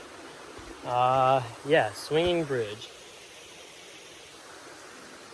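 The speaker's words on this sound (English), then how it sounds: "we've made it to a river crossing. A big river." A big river flowing at a river crossing on the 4 C's Trail in Carter Caves State Resort Park, a steady soft rushing hiss throughout, with someone briefly speaking over it.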